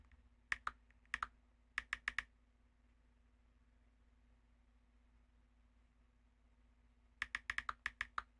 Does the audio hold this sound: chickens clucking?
no